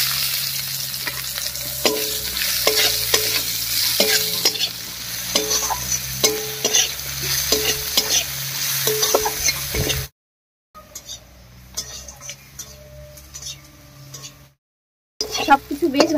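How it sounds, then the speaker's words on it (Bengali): Green chillies and chopped onion sizzle in a pan while a spatula stirs in quick, regular scraping strokes. The frying runs steadily at close range, then drops out into near silence with only faint clatters. "সবকিছু বেশ ভাজা হয়ে গেছে, এবার নামিয়ে নিচ্ছি।"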